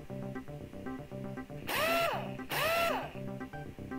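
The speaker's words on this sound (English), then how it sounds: "Trusty screwdriver again." A screwdriver drives screws into a Commodore 64 breadbin case, two short rising whirring bursts close by over a constant background of music.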